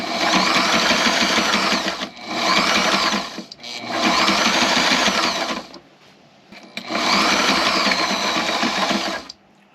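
A sewing machine stitching through thick edges of boat sunshade fabric runs in three loud, close bursts of steady whirring, each lasting a couple of seconds with short quiet gaps between.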